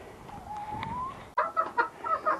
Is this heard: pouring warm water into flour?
no